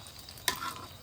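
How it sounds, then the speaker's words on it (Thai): A last pot of food frying at a family birthday gathering gives a single brief, bright sizzling burst partway through, over a low steady background hiss. "อันนี้เป็นทอด หม้อสุดท้ายละ"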